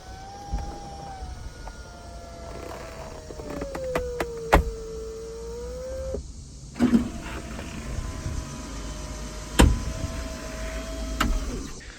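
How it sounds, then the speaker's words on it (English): The electric convertible-top motor of a BMW E36 whines steadily as it lowers the roof, its pitch drifting slowly downward, broken by sharp mechanical clicks and clunks, close and loud in an otherwise quiet car. "it's closing, and my motor is slowly bringing it down"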